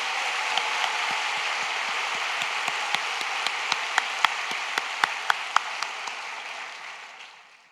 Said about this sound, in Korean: 우리 다시 한번 살아계신 하나님 앞에 영광과 존귀와 찬양의 박수를 올려드리겠습니다.